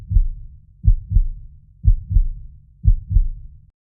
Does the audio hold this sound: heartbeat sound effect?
yes